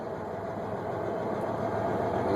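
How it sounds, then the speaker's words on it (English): A car hauler truck's engine runs steadily at raised idle to drive the hydraulic lift pump, a continuous broadband drone with a faint high whine over it, getting slightly louder toward the end. "You'll hear the engine. There's a slight whine."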